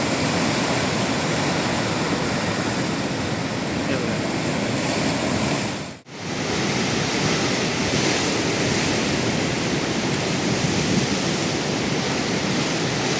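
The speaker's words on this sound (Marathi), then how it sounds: "आपण इकडे उभे होतो या गेटजवळ आणि लाटा तिथपर्यंत यायला लागल्या" Sea waves surge continuously onto the shore at Ganpatipule beach, a loud, steady broadband wash of surf with a brief dip in the middle before the roar resumes, heard close and alone without talk.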